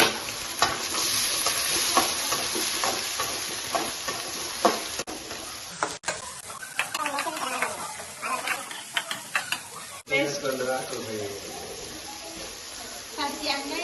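Green peas are tipped into a frying pan for paneer masala and stirred, with clattering spoon scrapes over a constant sizzle while people talk throughout.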